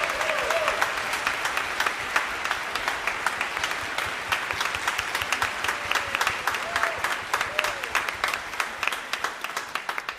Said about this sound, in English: Let's give another round of applause for Piano Cleveland